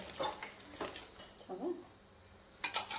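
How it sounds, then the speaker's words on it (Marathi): A ladle beating cooked rice inside a pressure cooker to make rice papad dough, with soft thuds, metallic clinks and scrapes in short bursts, a quiet gap in the middle and a louder clank at the end. "त्याला मस्त एक पळी घ्यायची आणि त्याच्याने छान असं फेटून घ्यायचं."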